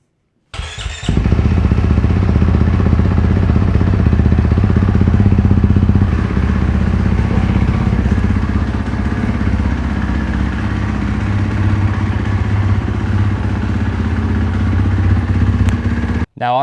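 A racing motorcycle fires up and then runs steadily, its engine loud and close with a rough, clattering idle and revving that hold for about fifteen seconds before cutting off abruptly.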